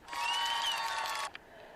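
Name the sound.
applause sound effect from a streaming device button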